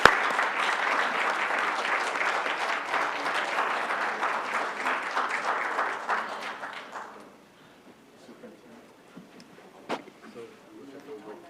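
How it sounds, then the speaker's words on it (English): A board of education meeting audience gives a round of applause, dense steady clapping for about seven seconds before it thins out into a quiet room with a few stray sounds. "joining me one more time in a round of applause for his wife and the rest of his family"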